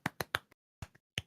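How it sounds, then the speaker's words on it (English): Sharp hand claps ring out in a quick irregular burst, several close crisp smacks followed by a pause and a few more, indoors and alone without speech. "I clapped."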